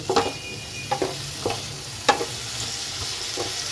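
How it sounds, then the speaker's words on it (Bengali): Spice paste with fresh Kashmiri chili and Kashmiri chili powder sautéing in oil for a bata fish curry: a low steady sizzle broken by several distinct scraping spatula strokes against the pan, heard up close. "আমার মশলাটা এবারে ভালোভাবে আমি কষিয়ে নেব, তেল ছাড়া পর্যন্ত।"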